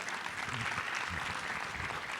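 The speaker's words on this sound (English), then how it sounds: "Let's give them a round of applause." Keynote audience applause after a panel, a soft, distant, continuous patter of clapping with faint talk underneath.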